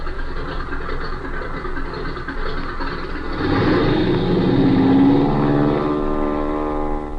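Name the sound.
airplane engine sound effect in 1932 radio serial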